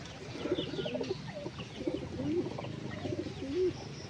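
Pigeons cooing nearby outdoors, soft repeated throaty coos in a loose rhythm of about four phrases, faint and without talk, with light chirps in the background.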